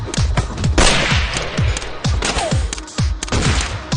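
Loud gunshots fire in rapid succession in the video game Madness Project Nexus, a dense volley of sharp, punchy cracks and thuds packed closely together with no pauses.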